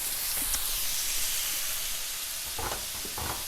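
Chicken pieces sizzle and steam in a carbon steel pan, a steady close frying hiss with a few brief stirring clatters near the end.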